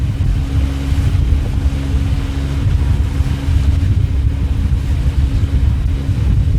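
On a boat pushing straight into a 15-knot southeaster off Inskip Point, heading for Double Island Point, wind buffets the microphone in a loud, steady roar over a low engine drone, with no speech.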